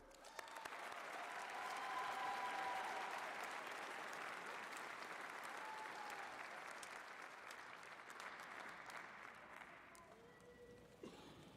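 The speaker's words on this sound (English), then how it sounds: "let's give those two a round of applause" Sustained applause from an audience at a winter college commencement ceremony, a broad, even wash of many hands clapping at a moderate distance, tapering slightly toward the end.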